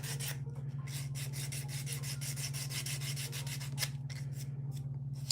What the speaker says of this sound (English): I just want to get a little bit of tougher sandpaper there. Sanding stick.